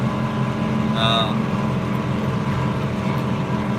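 A tractor engine labours under load while pulling a fertilizer spreader across a field, a steady droning rumble that runs throughout beneath a voice.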